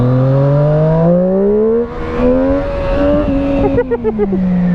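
A Triumph Street Triple RS 765 motorcycle engine revs up close and loud, its rising whine sweeping upward and then dropping off in a few quick blips.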